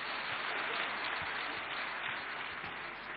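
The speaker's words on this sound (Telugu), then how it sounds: "ఇక్కడ ఉన్న పోలీస్ వారికి అందరూ ఒకసారి గట్టిగా చప్పట్లు కొడదామండి" Large audience at a public event in Rajahmundry applauding, a continuous, even wash of many hands clapping at a distance, steady throughout.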